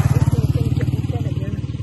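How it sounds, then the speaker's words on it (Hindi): A motorcycle passes along a road beside a large, dirty drain near a livestock market for Eid sacrifice animals; its engine gives a steady, rapid low pulsing throughout, with voices talking over it. "इधर कोई मोटरसाइकिल गुजरना है"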